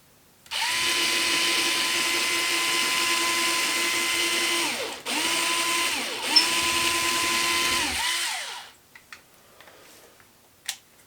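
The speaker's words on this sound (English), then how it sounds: "I'm drilling holes right now for these street lights" A power drill whirs steadily drilling holes for model street lights, revving down briefly twice mid-run before stopping, followed by faint scattered clicks and taps.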